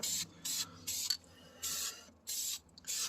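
Aerosol spray paint primer applied to a front brake caliper comes as several short hissing bursts with brief silent gaps between them, close and clear, with no talking.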